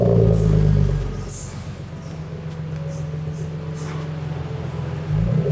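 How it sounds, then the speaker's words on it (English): A BMW E46 engine fires up after an oil and filter change, a loud cranking start settling into a steady low idle rumble, close by, with a brief rise near the end. "So now we can start the car up and see how it sounds."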